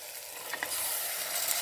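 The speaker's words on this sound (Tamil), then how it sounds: "இப்போ க்ளீன் பண்ணி வச்ச மட்டனை சேர்த்துடுறேன்." Cleaned mutton going into hot oil and masala in a pressure cooker, a short burst of sizzling with a couple of light clinks, close and brief.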